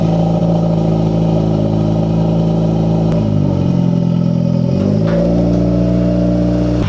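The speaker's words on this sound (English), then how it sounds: "I'm going to try and start the car" An idling car engine with an aftermarket sensor runs steadily, then its revs dip and surge twice as the engine is cranked and caught, a constant close mechanical drone with clattering tones and no talking.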